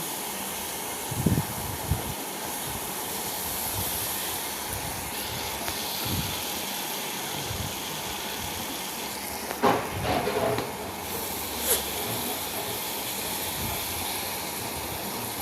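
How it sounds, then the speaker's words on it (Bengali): Tomatoes go into a pan of dried fish curry (shutki bhuna) and are stirred, producing a continuous hiss and sizzle with a few scraping knocks of the spoon, no talking. "এখন টমেটো দিয়ে দিচ্ছি, দিয়ে ভালোভাবে নেড়ে ছেড়ে নিচ্ছি।"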